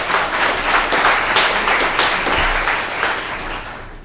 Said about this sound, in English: Give Sophie a big round of applause.